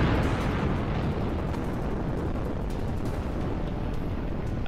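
A massive, roaring atomic bomb explosion rumble fills the whole time, dense and continuous like a deafening blast.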